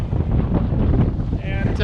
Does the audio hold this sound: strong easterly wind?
yes